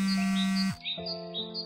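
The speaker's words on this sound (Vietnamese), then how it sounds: "Ôi, tiếng chim ấm áp làm sao." A hwamei songbird sings indoors in a small room in the early morning, giving a short run of clear, bright whistled notes close by, with no talking.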